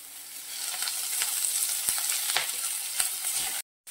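A roasted stuffing mixture fries in a little oil, giving a dense close sizzle with scattered scraping clicks of stirring before cutting off abruptly into silence.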